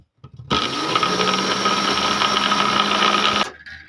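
An electric beater whirs steadily for about three seconds as it beats eggs for an apple tea cake, a loud continuous motor drone with a constant pitch that starts and stops abruptly.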